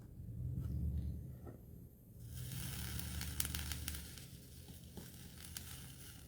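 A faint crackling sizzle rises and fades as a hot soldering iron touches flux while making a stained glass cross, with soft handling noises around it and no voices.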